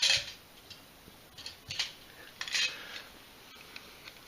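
Metal lid of a camping bushpot billycan handled at close range, a few light clinks and taps scattered over a few seconds, quiet with no talk.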